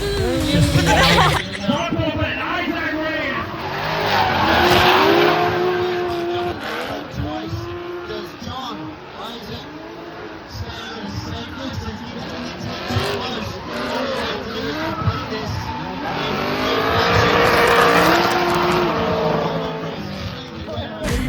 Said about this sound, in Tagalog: nakaka-inlove nung tunog ng drifting